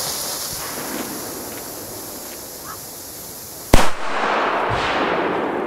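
A single sharp blast from a 1.5-gram China Böller D firecracker cracks out after several seconds of quiet outdoor wind, followed by a lingering rumbling echo.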